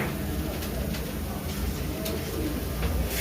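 Teddy pigeons coo amid the noisy din of the Shahdara pigeon market in Lahore, their low calls partly buried under constant broadband crowd and street noise.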